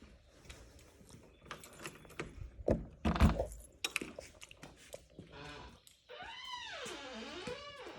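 A bunch of keys jangles and clinks in a few bright, irregular bursts while someone locks up a building on a farm, close by, followed by a rising and falling whistling tone near the end.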